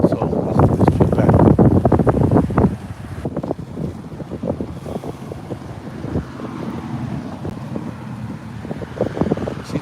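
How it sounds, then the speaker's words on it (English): Strong wind buffets the microphone outdoors in a roaring, gusty rush, loudest in the first few seconds and then steadier and lower, with a faint voice underneath. "It's windy."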